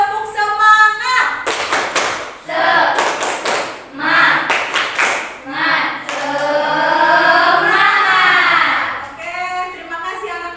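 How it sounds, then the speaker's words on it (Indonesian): Schoolchildren doing tepuk semangat, a rhythmic motivational clap routine in class, with bursts of patterned claps between chanted and sung words, close and loud. "Motivasi berupa tepuk semangat biar kalian semangat."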